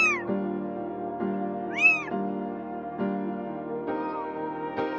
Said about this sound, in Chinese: 有小猫了。